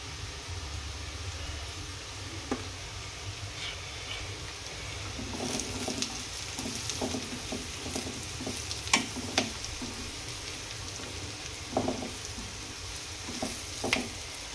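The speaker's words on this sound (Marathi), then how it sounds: "व्यवस्थित परतून घ्यायचे मसाले." Ground spices sizzle and fry in a pan for a cauliflower and potato curry, a soft steady crackle close by with occasional scrapes and stirring knocks.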